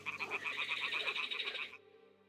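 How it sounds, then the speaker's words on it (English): Toads croak in a rapid, pulsing chorus near a nest in the game Kingdom Come Deliverance 2, a steady trilling rattle that stops abruptly, fairly faint and with no talking. "Ah, the toads are croaking here."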